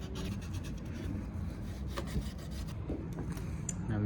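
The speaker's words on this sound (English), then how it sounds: "You just clean the sticky residue of the sellotape." Cloth rubbing sticky sellotape residue off the boot handle of a Honda Type R, quiet repeated scrubbing strokes close by.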